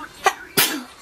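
A sharp sneeze bursts out close by, preceded by a quick catch of breath, then trails off into a short breathy tail.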